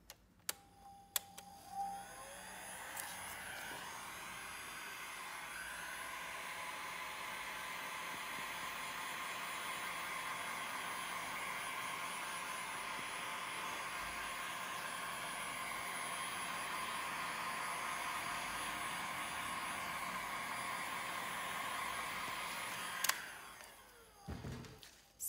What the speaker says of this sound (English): If you use a Steinel heat gun, just get rid of the bubbles